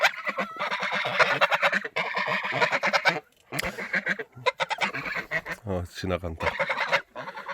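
Geese honking loudly and repeatedly on a farm, noisy overlapping calls filling the scene close by, with a voice talking among them.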